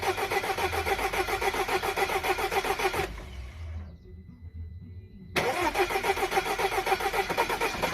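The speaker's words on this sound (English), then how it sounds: "eventually the car started." An Audi Q5 with a CDNC engine and a timing fault cranks in a loud, rapid rhythmic chug up close, drops into a brief lull, then the engine catches and runs on with the same pulsing beat; no one speaks.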